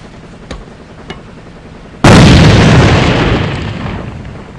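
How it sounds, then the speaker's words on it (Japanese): A bomb detonates in the online shooter AVA, a sudden loud broadband blast that cuts in after two faint distant pops and then rolls off into a long, slowly fading rumble with no speech. "よし、爆弾。"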